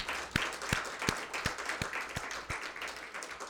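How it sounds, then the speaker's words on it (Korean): Church congregation clapping after Sunday worship, a rhythmic series of sharp, evenly spaced claps in unison over a softer wash of scattered applause. "한 번 더 큰 소리로 박수 한번 쳐주겠습니다."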